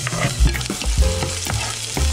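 Onions sizzle and crackle in hot sesame and cooking oil while a utensil repeatedly scrapes and stirs the pan, up close.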